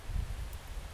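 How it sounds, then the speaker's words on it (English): Strong mountain wind buffets and roars in low gusts across the microphone, a dense rumbling wash with faint rustling of trees behind it, lasting only a moment. "apologies if there's a wind noise. It's really windy up here in the mountains today."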